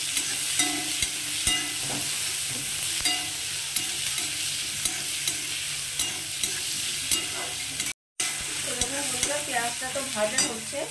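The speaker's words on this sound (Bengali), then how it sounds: "তো পেঁয়াজ আর রসুনটা এখন আমি একটু ভেজে নেব।" Chopped onion and garlic sizzle steadily in hot oil in a pan, with frequent scraping and stirring strokes throughout and no talking.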